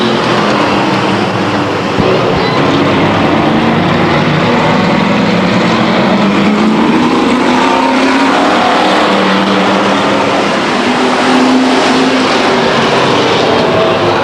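Stock cars race at Stockton 99 Speedway in 1999, a dense, continuous engine roar from the field filling the air with a slow swell as cars pass, loud and unbroken, with no talk.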